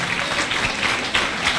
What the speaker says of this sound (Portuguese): Se puder, aplauda a Jesus uma vez mais.